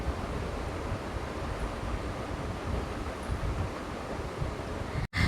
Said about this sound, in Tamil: இப்போ வந்து இஞ்சி பூண்டெல்லாம் மிக்சியில் போட்டு நல்லா பேஸ்ட் மாதிரி அரைச்சி எடுத்துக்கலாம்